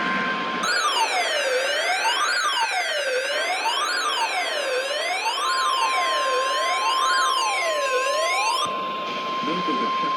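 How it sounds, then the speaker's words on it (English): A National Weather Service weather radio warning alarm for northeast Florida sounds as a loud, continuous wavering electronic tone, rising and falling steadily for about eight seconds before cutting off abruptly. "This is a test of the National Weather Service weather radio warning alarm for the KHB-59 listening area of northeast Florida."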